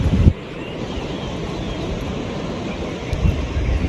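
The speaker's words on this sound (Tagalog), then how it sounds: "Napakalaking ilog." A very large river flows with strong current, heard as a continuous rushing roar outdoors, buffeted by wind gusts against the microphone at the start and end.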